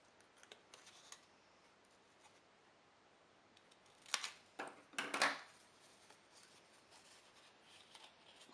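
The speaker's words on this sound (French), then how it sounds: "avec des petits ciseaux, je vais découper en biais" Small scissors cut slanted gluing tabs on paper in a quiet room, faint snips early on, then a few sharper, louder cuts and rustles near the middle.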